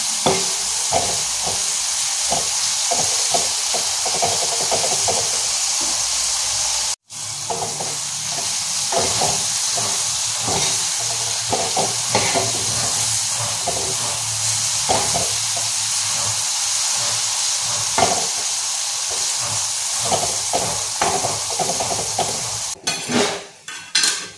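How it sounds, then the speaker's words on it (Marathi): Bitter gourd roasts slowly in a pan over a low gas flame. A continuous sizzle runs under repeated scraping and clinking of a spatula against the pan, with one brief cut in the sound partway through. "आपल्याला बारीक गॅसवर असं भाजून घ्यायचं कारलं"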